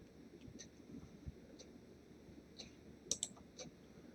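A computer mouse gives several faint, sharp clicks spaced irregularly over a quiet room background, with a quick pair of clicks near the end.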